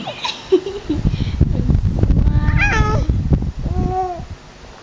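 A cat meows a few times, high drawn-out cries near the end, mixed with background noise and close human voices.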